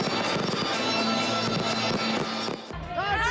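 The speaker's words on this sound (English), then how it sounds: "Spectacular fireworks displays at Glenelg and Elder Park, bringing in the new year with a bang." A New Year's Eve fireworks display at Glenelg jetty crackles and booms continuously with a dense roar of bursts, a crowd murmuring underneath and whistling rockets near the end.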